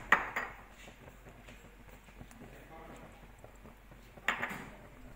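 Barbecue sauce with a little Worcestershire sauce is stirred in a pan, with a sharp utensil clink at the start and again near the end and soft scraping between.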